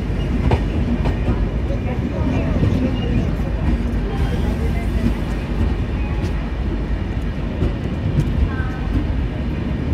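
The Vivek Express, a long-distance Dibrugarh to Kanyakumari train, rolls past near New Jalpaiguri with a continuous heavy rumble and scattered wheel clatter, close and sustained.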